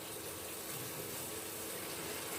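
Spiced egg curry gravy sizzling in a hot pan, a steady, faint, even hiss that holds without a break and with no voices.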